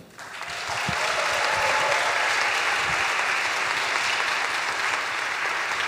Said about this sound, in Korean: 방금 쳐주신 박수보다 훨씬 더 큰 박수 부탁드릴게요